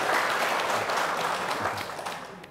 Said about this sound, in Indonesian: Tepuk tangan yang meriah kita sekalian.